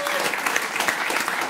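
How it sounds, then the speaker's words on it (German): Audience applause during a German stage show, a dense burst of clapping from the crowd that stays steady and fairly loud throughout the short moment. "Ein Applaus für Steffi, für Sebastian Kropp."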